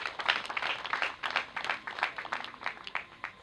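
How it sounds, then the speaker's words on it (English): An audience at a Nile University graduation ceremony claps in a steady, moderately loud patter of many hands, with no talking over it. "I expected a bigger clapping from you"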